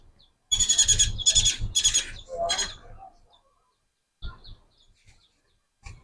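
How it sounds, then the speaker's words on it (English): A blackbird gives a series of loud, harsh chattering calls close by, followed by quieter, sparse chirps and pauses. "This is the blackbird here, making all kinds of noise"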